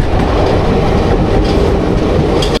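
A passenger train running near Pandabeswar bridge over the Ajay river, heard from inside as a loud, steady rumble with faint rhythmic rail clatter, continuous and close.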